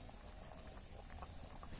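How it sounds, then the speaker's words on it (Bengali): Fish curry broth of pangas fish with potato and eggplant bubbles in the pot, a soft, continuous low burble that stays faint and even for a brief moment. "ঝোলটা ফুটছে"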